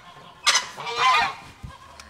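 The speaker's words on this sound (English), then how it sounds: "This would be this year's our first generation of geese." A farm goose gives two loud, close honks in quick succession, followed by a fainter short call, with quiet ambient noise in between.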